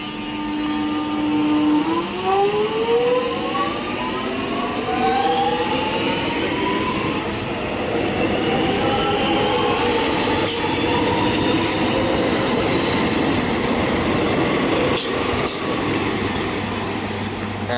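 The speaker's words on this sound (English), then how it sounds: "As we see this train, which will shortly depart." A Melbourne suburban train departs Glenferrie station, its electric motors rising in pitch as it pulls away, followed by a sustained loud roll of wheels on rails with squeals and a few clunks.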